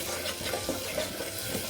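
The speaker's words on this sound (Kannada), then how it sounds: "ಚೆನ್ನಾಗಿ ಈ ಥರ ಫ್ರೈ ಮಾಡ್ಕೊಬೇಕು." Spiced ground paste frying in a pan for vegetable sambar, a soft continuous sizzle with light stirring scrapes over a short stretch.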